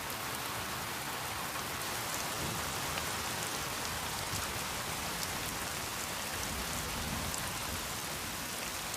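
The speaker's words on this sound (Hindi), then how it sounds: "टेपुई की खड़ी चट्टानों से रेन फॉरेस्ट की नमी ऊपर पहुंच जाती है, फिर मूसलाधार बारिश होती है" Torrential rain pouring on a rainforest below tepui cliffs, a dense, steady hiss of heavy downpour with no break or voices.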